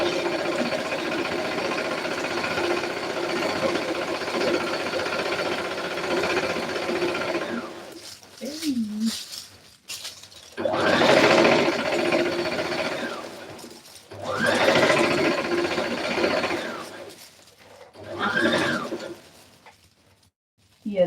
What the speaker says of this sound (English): But since I don't have it, I'll just sew with the straight stitch.